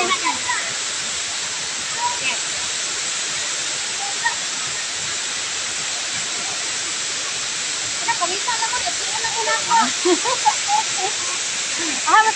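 Mimbalot Falls in Iligan roars as a steady, loud broadband rush of falling water, continuous throughout with faint voices briefly surfacing near the end.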